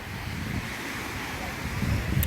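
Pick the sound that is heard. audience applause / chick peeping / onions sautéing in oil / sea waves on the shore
sea waves on the shore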